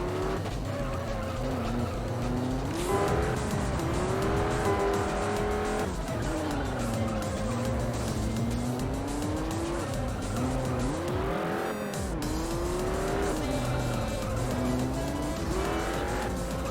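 In the racing video game Juiced, a race car engine screams through repeated rising gear changes with tire squeal and skidding. The sound is loud and continuous, and a player briefly talks over it.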